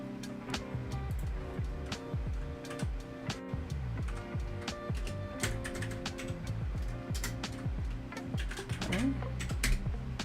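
Someone types on a computer keyboard while coding a game in Godot with Vim, producing rapid, uneven clacks and taps close by, continuous throughout with no voice.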